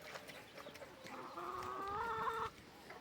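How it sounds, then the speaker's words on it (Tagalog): Free-range heritage chickens cluck and murmur nearby in an outdoor yard, with a steady layered chorus of calls swelling in the middle and fading near the end. "yung mga heritage chicken ko guys free range"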